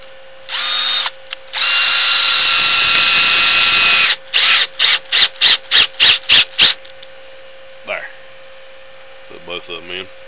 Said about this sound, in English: And countersink these screws in the bottom.